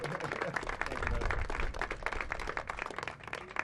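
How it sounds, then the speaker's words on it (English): A press briefing audience breaks into a short, dense round of applause, moderately loud and steady throughout, with voices mixed in beneath the clapping. "Let's give him a round of applause."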